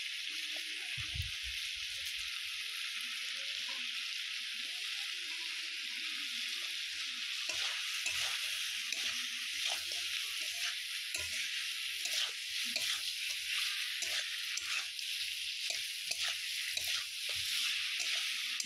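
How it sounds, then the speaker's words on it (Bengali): Chicken curry being stirred in a frying pan after salt is added: a steady, bright oily sizzle runs throughout, with soft scraping stirs and occasional light clinks of the utensil against the pan. "লবণটা দিয়ে আমি আবার নাড়তে থাকবো।"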